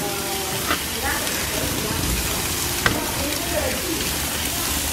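A burger frying in a hot pan gives a steady, close sizzle and crackle throughout, with a couple of sharp spatters over the continuous hiss.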